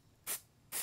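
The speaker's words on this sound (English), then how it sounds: "spray it like this," Two short bursts of Loctite spray adhesive hiss from an aerosol can, each about a fifth of a second, separated by a brief pause and heard close up with no talking.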